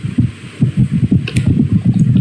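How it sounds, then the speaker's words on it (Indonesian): An electric fan running close to the microphone gives a loud, throbbing low hum with a rapid pulsing rhythm, steady throughout with no voices. "Iya guys, itu suara kipasku."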